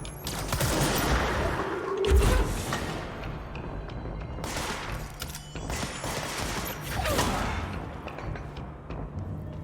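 Bursts of rapid gunfire from the player's weapon in the game Control, several loud volleys separated by short gaps, mixed with mechanical clatter and ambient game noise.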